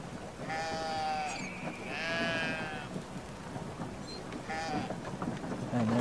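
Sheep in the video game Brothers bleat several times in short wavering calls, fairly close, over soft ambient game sound.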